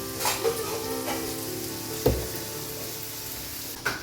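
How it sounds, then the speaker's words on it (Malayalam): Chicken coated in masala powder fries in a pan with a steady sizzle, punctuated by a few sharp clanks and scrapes of stirring at irregular intervals, close and unaccompanied by talk. "ഇവിടെ ചിക്കൻ ഇളക്കി തുടങ്ങിട്ടാ."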